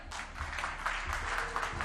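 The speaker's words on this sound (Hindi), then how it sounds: "सबसे पहले तो सतीश जी के लिए जोरदार तालियां।" A seated audience at a televised political conclave gives a steady round of applause, a soft, continuous patter of many hands heard from some distance.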